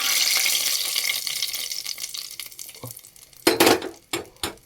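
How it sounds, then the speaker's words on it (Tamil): Tempering poured into a pot of Tirunelveli sodhi curry: a bright sizzling hiss that fades over a few seconds, then several sharp clattering splashes and stirs near the end, close and loud, with no talking. "தாளித்ததை கொட்டுறோம்."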